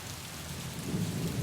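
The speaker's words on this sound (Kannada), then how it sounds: "ಸ್ವಲ್ಪ ದಿನಗಳ ಹಿಂದೆ ಸಾಧಾರಣವಾಗಿ ಆಗ್ತಿದ್ದಂತಹ ಮಳೆ ಇದೀಗ ಮತ್ತೆ ಚುರುಕಾಗಿರುವಂಥದ್ದು" Heavy monsoon rain pouring steadily over Karnataka, a dense continuous hiss with a low rumbling swell building toward the end, no voices.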